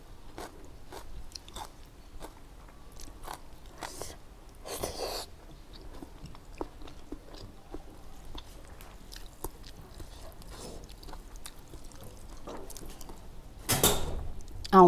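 Crunchy, sweet snack food chewed close to the microphone, with a series of crisp bites and crunches spread irregularly across the stretch and a louder burst near the end.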